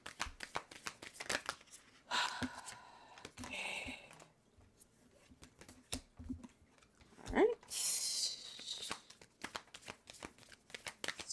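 Tarot cards are shuffled in a reading, with repeated riffling and flicking bursts coming close and fairly quiet, with crinkly handling noises in between.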